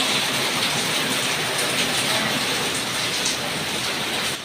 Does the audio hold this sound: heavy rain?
yes